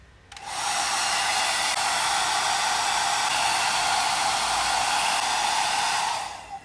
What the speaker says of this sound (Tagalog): itong hair blower or hair dryer. So, i-blow dry lang natin siya